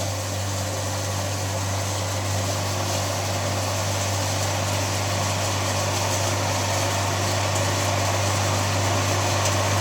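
A motor-driven chopping machine runs at a constant pace, giving off a steady, droning hum with a strong low tone and no change in speed.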